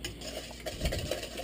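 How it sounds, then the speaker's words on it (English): Sugar is stirred into a cassava cake mixture, a brief, faint run of soft scraping and swishing from a spoon working through the batter in a bowl. "Stir."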